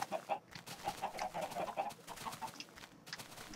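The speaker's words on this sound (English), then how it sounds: "So you see, we have our chickens here." Chickens in Minecraft cluck in short, repeated bursts at low volume with a few pauses, game sound effects with no voice over them.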